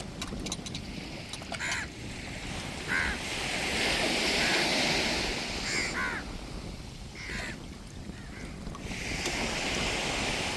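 Sea waves wash steadily onto a shore, a continuous close roar of surf, while crows caw in short bursts over it; no talk.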